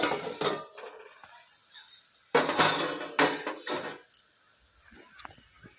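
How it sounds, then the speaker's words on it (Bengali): A metal lid lifted off a cooking pot of mushroom masala: a few sharp clanks and scrapes of metal on metal, close and moderately loud, with quiet gaps between. "এবার ঢাকাটা খুলে নেব"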